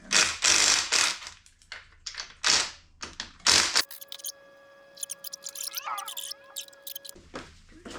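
Ratcheting wrench loosening 13 mm bolts on a Kawasaki KZ400 motorcycle engine, quick clicking bursts of the pawl in short strokes, close and clear, with a sustained metallic ring mid-clip.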